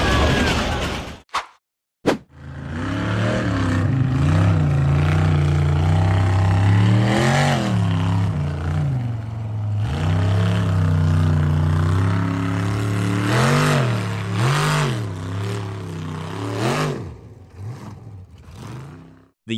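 A dark gray steel-frame off-road buggy revs hard and loud, its engine rising and falling in repeated throttle bursts while climbing a steep dirt hill, close and continuous after a brief cut at the start.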